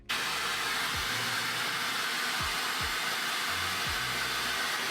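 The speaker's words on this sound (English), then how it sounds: "go back over everything with the cold setting this time on the hair dryer" A hair dryer on its cold setting switches on and blows steadily with a constant loud airy whoosh, close by, with a few low thumps underneath.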